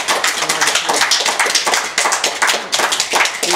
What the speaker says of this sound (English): Shall we give John a big round of applause?